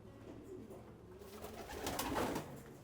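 Breeding pigeons coo softly in a loft, a low murmuring rhythm with a faint rustle rising in the middle and no voices.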